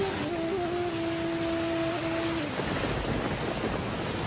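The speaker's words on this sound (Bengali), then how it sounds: "গুড়ি গুড়ি বৃষ্টি।" A cartoon sound effect of drizzling rain in a storm plays as a soft, steady hiss, with a sustained tone running over the first half before fading out.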